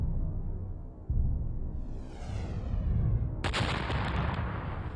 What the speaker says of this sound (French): une nouvelle météorite géante s'écrase dans ce qui deviendra le golfe du Mexique